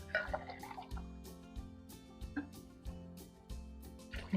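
Water poured from a glass onto rice for maqluba, heard as repeated splashes and drips with liquid sloshing at close range, no talk.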